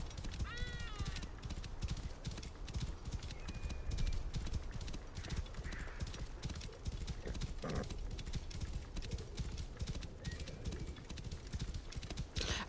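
Horse hooves gallop steadily in Assassin's Creed Origins, a fast even clip-clop rhythm at moderate level throughout, with a brief neigh early on.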